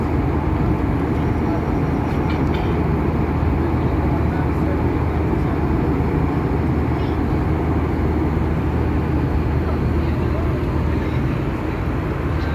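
Steady, loud broadband rumble inside an airplane cabin as the plane descends for landing, a continuous low drone with no breaks.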